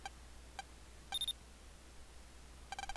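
Electronic beeps in the Megaman Battle Network 6 video game: sparse soft blips, a brief two-tone beep, then a quick run of rapid chirps, faint over low hum.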